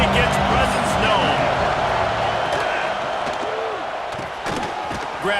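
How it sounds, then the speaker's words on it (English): Stadium crowd noise in the College Football 26 video game: a dense, continuous roar from a packed crowd during play, steady and loud, fading slightly toward the end, with scattered thumps and shouts. "This crowd ready to make its presence known."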